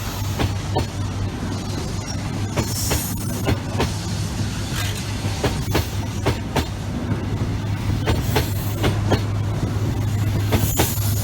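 An East Coast passenger train rumbles and clatters past at Doncaster station, with rhythmic wheel clicks over the rails and a steady low engine hum.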